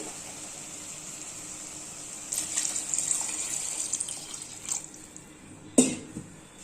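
Water pours steadily into a pot of mutton for boiling, a close splashing stream that stops, followed by a brief clank of a vessel.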